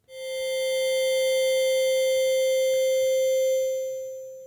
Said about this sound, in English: But when I dial the sample rate down, I get a more video gamey sound.